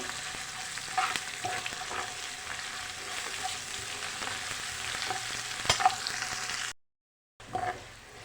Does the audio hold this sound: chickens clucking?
no